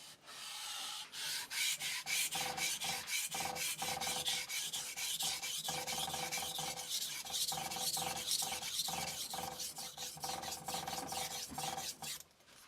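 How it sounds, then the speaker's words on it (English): A knife blade drawn across a King resin-bonded diamond whetstone, close and quiet, making a rhythmic series of rasping, gritty strokes at a steady, even pace. "let's give it some strokes here and see how this stone sounds"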